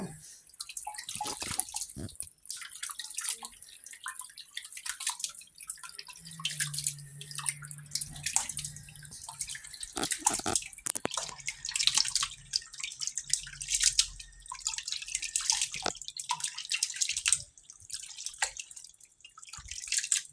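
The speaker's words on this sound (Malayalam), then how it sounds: "ഇത് ശരിക്കും പിഴിഞ്ഞ് വെള്ളമൊക്കെ തുള്ളി തുള്ളിയായിട്ട് വീഴുന്ന വരെ പിഴിഞ്ഞ്" Water drips and patters steadily as washed raw pork is squeezed by hand over a bowl in a kitchen, with irregular close-up drops and small splashes running continuously.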